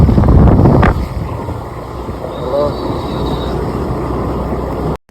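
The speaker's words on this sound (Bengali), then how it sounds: "তো গাইজ দেখো এখন কিন্তু আমরা নৌকায় উঠে গেছি," A boat ride on open water: a loud rushing burst at the start gives way to steady wind buffeting the microphone and a constant low hum of the moving boat.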